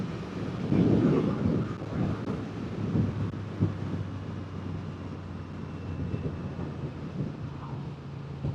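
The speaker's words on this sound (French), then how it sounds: "On dirait qu'il y a plus de vent quand même" Wind buffets the microphone while riding a 750 Hornet motorcycle, in low, rumbling gusts, strongest early on, with a steady road drone beneath.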